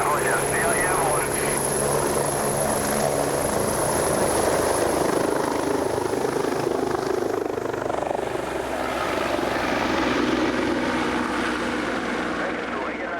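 A rescue helicopter lifts off and flies on an avalanche emergency call in snowy mountains, its rotor and engine roar steady, loud and close throughout, with a voice talking over the radio.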